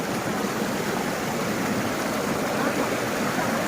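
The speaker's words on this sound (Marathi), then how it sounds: "पाण्याचा खूप आवाज येतोय त्याच्यामुळे मी मोठ्याने बोलतोय" Steady, loud rush of fast-flowing stream water, a continuous broadband roar with no pauses.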